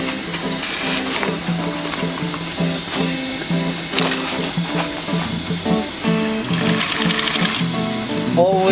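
A sewing machine runs a triple stitch through canvas for a simple rollup bag, its rapid needle chatter steady and close, with short pauses and speed changes.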